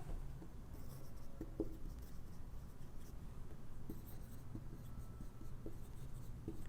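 Chalk or marker writing a word on a board in a classroom, quiet tapping and scratching strokes in short bursts over a low room hum, no talking.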